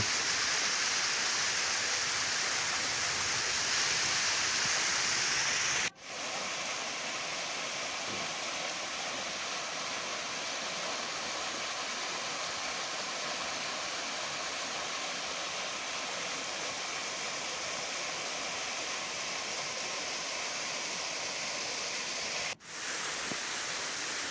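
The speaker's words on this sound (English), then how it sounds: "this is the second waterfall" Falling water at Srikona Waterfalls roars in a steady, dense rush, loud and unbroken, with a couple of brief cuts in the sound.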